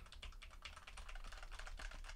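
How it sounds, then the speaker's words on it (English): Rapid continuous typing on a computer keyboard, picked up by a FIFINE AmpliTank microphone during a test, with dense clicking keystrokes throughout and no talk. "Let's do a little keyboard test here."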